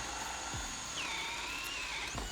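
A Milwaukee Fuel 12V cordless drill whines steadily as it bores into timber, its motor pitch rising and shifting under load, fairly close and without talk.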